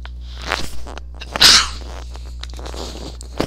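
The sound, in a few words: sneeze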